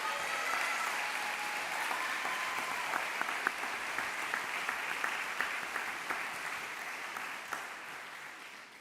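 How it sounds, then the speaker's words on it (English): Sustained applause from a commencement audience at SLU-Madrid honoring student speakers, a dense steady wash of clapping heard from a distance that holds evenly throughout. "Will you join me in giving them one more round of applause?"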